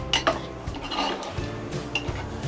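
A metal spoon stirs chicken korma in a pot, with repeated scraping clinks against the metal and a soft sizzle underneath, close and fairly quiet.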